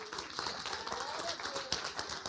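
Church congregation clapping during a family worship service, a fairly faint, busy patter of hands with voices mixed in and one sharper clap standing out near the end.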